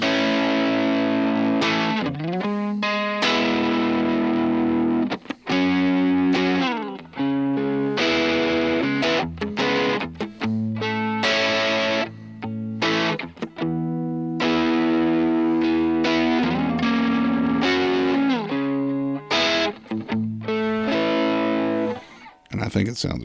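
Overdriven electric guitar running through a Klon-style drive stacked into a Rat-style distortion on a Tone Master Pro, loud sustained chords and riffs with short gaps between phrases, steady and close.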